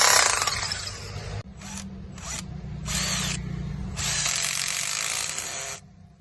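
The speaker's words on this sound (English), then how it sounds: "we put in these kind of big screws that bite into concrete" Bursts of a power tool driving big screws into concrete to anchor against hurricane wind on Bimini, Bahamas: four loud whirring runs, two short and two longer, separated by brief pauses, over a low steady background rumble.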